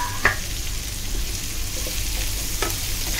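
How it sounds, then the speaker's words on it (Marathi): Bell peppers sautéing in a pan for egg chilli, a soft continuous sizzle broken by a couple of sharp spatula scrapes and stirs, close and without talking. "छान आता 1 मिनिट परतून घेऊया. आता ढोबळी मिरची पण छान आपली परतून झाली आहे."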